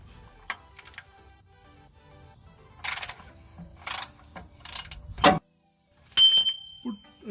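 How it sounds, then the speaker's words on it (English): A socket wrench works loose the oil filter on an H2 Hummer, giving several short bursts of ratcheting clicks with pauses between them, close and fairly loud, with a faint voice underneath. "I'm going to use the socket and we're going to crank it open"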